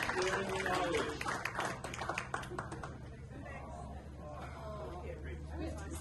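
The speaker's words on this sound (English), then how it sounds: "let's get a big round of applause for McGee, Matt, Jeff, and Caroline." Audience applause at an electric vehicle car show in Longmont, Colorado, with clapping strongest at the start and fading into softer crowd noise and chatter over about six seconds.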